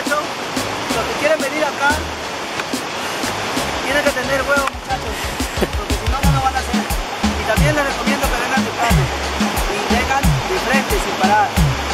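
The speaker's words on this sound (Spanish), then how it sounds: "creo que es la más bonita de todas las cataratas" The San Jerónimo de Surco Patacala waterfall roars as a loud, continuous broadband rush up close, steady throughout with a few irregular bumps mixed in.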